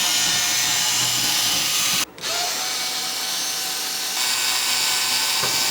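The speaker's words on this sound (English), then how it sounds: "So basically I'm gonna remove these screws here on the bottom." A power screwdriver removes the bottom screws from an E-MU EMAX HD sampler, whirring loudly and steadily up close, with one brief break near the middle before the motor resumes.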